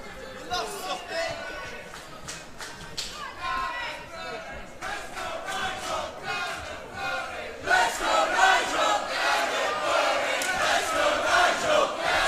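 A wrestling crowd at a YPW 2/3 falls match chants and cheers in rhythmic bursts, swelling louder toward the end, with commentators talking over the noise.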